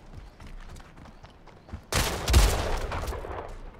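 A shotgun fires in Splitgate, a loud sudden blast partway through that rings out into a dense burst of follow-up gunfire over quieter earlier game noise.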